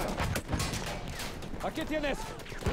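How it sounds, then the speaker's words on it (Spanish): Rapid gunfire from multiple directions in the Battlefield 1 video game, dense bursts and single shots crackling close and far in a chaotic fusillade, with some speech-like sounds mixed in. "Están, disparando de todos lados"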